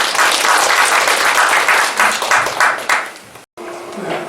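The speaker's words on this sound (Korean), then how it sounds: "힘찬 박수로 맞이해주시면 고맙겠습니다." A seated audience at a training session on eco-friendly farming for school-meal producers gives a lively round of clapping to welcome a lecturer; the applause cuts off abruptly, then a voice begins over the quiet room.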